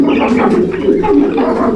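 A long-distance racing pigeon coos up close and loud in low, throaty, continuous murmurs, with no talk over it.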